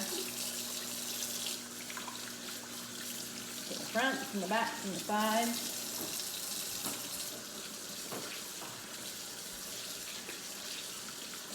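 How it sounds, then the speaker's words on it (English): Water runs steadily from a tap while hands rub and splash beneath it, with a person talking briefly partway through. "we wash our hands well with soap and water"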